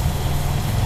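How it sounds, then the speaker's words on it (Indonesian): A cold Honda Civic Genio engine idles at a low 600 RPM in a short burst, a steady close low rumble without variation. "Kita nyalakan mesinnya. RPM-nya dia rendah banget ya. Jadi di 600 RPM"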